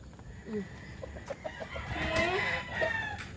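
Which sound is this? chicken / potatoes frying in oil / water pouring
chicken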